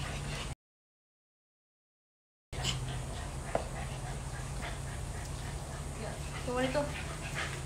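A small dog whimpers and grumbles in short, uneven bursts against a steady indoor background hum, with a brief silent gap early on and a few high whiny notes toward the end.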